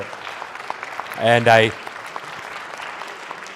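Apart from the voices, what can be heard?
church audience applause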